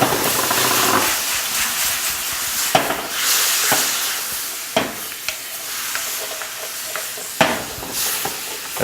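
Cold mango pieces dropped into hot, smoking caramel hiss and sizzle steadily, with the scrape and clack of a spoon stirring the pan heard several times over the frying noise.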